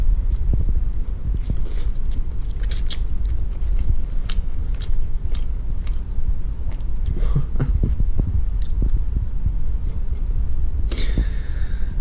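Someone chews a mouthful of homemade pasta with pesto close up, with soft, irregular biting and mashing sounds and a few wetter smacks spread over a steady background.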